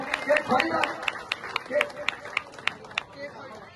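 Audience at a village prize-distribution ceremony clapping in welcome, a loose patter of handclaps rising and fading over several seconds amid crowd murmur, with a voice talking over it.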